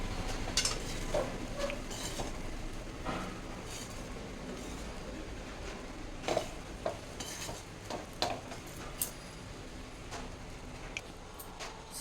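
A spoon stirs and mixes vangi bath, a brinjal rice dish with lemon juice, in a pan. Soft scraping and shuffling is broken by several sharp metallic clinks against the pan, up close, with no voices.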